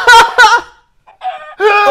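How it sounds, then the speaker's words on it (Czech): A chicken in the Minecraft video game gives a few short clucking calls in two quick bursts, followed by a brief pause and then a couple more clucks, fairly loud and close with no talk over them. "Tady nám běhá slepice."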